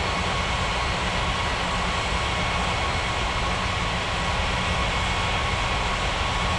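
Ethiopian airliner on its takeoff roll from runway 28 at Snow Lake airport in a flight simulator game, a steady, loud, unbroken engine roar with no variation.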